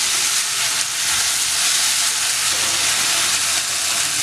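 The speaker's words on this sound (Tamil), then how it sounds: "அதுக்கப்புறம் கருவேப்பிலை, அப்புறம் பச்சை மிளகாய், இதெல்லாத்தையும் அதெல்லாம் நல்லா வதக்கிக்கோங்க" Curry leaves and green chilies sautéing in a hot pan for a chilli bread recipe, giving a steady, close, continuous sizzle and hiss with no talk over it.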